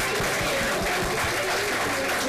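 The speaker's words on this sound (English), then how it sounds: "Would you all give them a round of applause?" A room full of people claps steadily at a school board meeting, giving dense, continuous applause that fills the whole moment.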